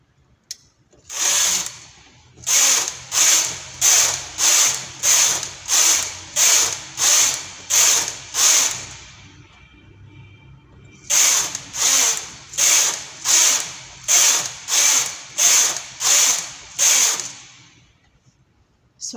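Knitting machine carriage sliding across the needle bed in repeated rows, making a loud, rhythmic series of rasping swishes, about ten passes, then a pause and another run of passes.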